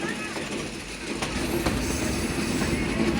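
The Intercity Rupsha Express pulls out of Bheramara railway station, wheels clattering and rumbling steadily beneath a continuous hum, heard from on board.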